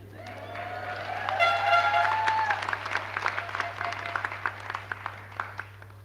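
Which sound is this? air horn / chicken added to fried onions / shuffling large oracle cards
air horn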